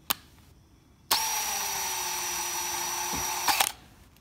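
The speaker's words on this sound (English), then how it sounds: "I took my drill bit, went right alongside of it" A power drill bores alongside the roll pin of a metal Honda ignition lock cylinder, starting with a short blip, then running loud and steady for over two seconds before cutting off, close up with no talk.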